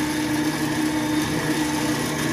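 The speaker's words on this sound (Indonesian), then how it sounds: "lalu kita mixer ya. Nah, gunakan speed tinggi untuk mixernya" An electric mixer whipping marble cake batter at high speed (setting 4), giving a steady, loud motor whine with a constant pitch, heard up close and alone.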